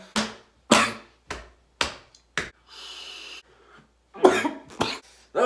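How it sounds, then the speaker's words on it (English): Harsh, repeated coughing fits after vaping e-liquid, a series of sharp close bursts with a brief raspy exhale between them, then a couple more coughs. "A lot of coughing in this shit."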